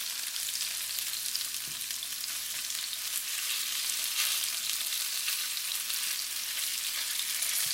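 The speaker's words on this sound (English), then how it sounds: "fry up the salmon first" Salmon browning in a hot pan before fried rice, a dense, even hiss of frying with faint stirring, close and continuous with no talking.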